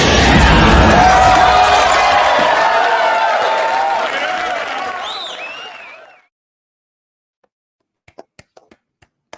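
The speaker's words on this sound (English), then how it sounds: "Round of applause as always, everybody, for the best intro on YouTube." Applause and cheering from a crowd for a livestream intro. The dense roar starts loud, fades out over about six seconds, and a few faint clicks follow.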